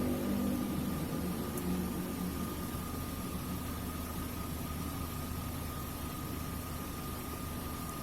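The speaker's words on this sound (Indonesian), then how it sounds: "Kita nyalakan mesinnya." Toyota Avanza car engine idling, a low steady hum with a constant drone and faint hiss that stays even and unchanging.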